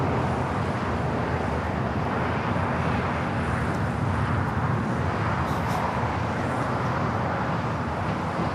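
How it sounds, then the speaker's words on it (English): A United Airlines Boeing 787-10 Dreamliner takes off from LAX bound for Tokyo Haneda, its engines producing a dense, continuous, loud roar with heavy low rumble and a touch of wind noise. "This is United Airlines Flight 39 taking off to Tokyo Haneda on the 787-10 Dreamliner."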